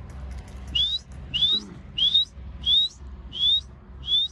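A partridge calls repeatedly with short rising whistled notes, six evenly spaced calls over a low background rumble, clear and fairly close, in a village.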